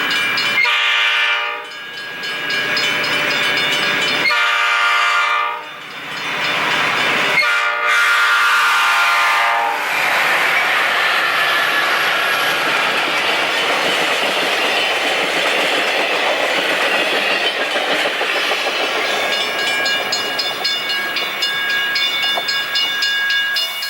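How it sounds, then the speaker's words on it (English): An Amtrak Desert Wind passenger train passes at Devore, California, opening with several loud, sustained horn blasts separated by short gaps, then a steady rush of cars rolling by close up with rhythmic wheel clatter. "Amtrak Desert Wind at Devore, California."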